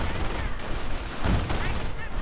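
Grenade blasts and crackling gunfire fill a WWII strategy game battle against Panzer Grenadiers, a steady dense clamour with a heavier burst near the middle and possible game voices mixed in.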